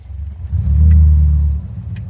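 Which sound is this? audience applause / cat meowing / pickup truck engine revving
pickup truck engine revving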